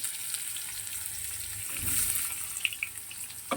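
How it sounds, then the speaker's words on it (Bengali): Black cumin and chopped onion fry in hot oil for a tangra fish dish, giving a soft, steady hiss of sizzling with a few light clinks and taps near the end. "কালো জিরে ফোড়নে দিলাম, পেঁয়াজ কুচি দিলাম একটু"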